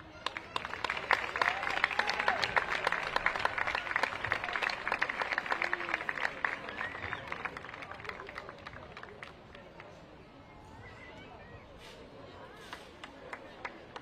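A crowd applauds at a women's football tournament award ceremony, dense clapping that holds for several seconds and then thins out, with crowd chatter underneath.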